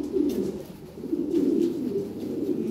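Lahori pigeons coo in low, rolling, repeated phrases, loud and close, with the calls overlapping almost continuously.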